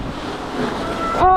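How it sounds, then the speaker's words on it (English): A big wave crashes over a raft on the Fjord Rafting water ride at Europa Park as a loud, rushing burst of splashing water. A person gives a brief exclamation right at the end. "Here we go, mega wave."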